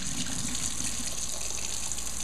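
Tap water runs steadily over canned chickpeas being rinsed in the can, a constant close splashing gush with no voices.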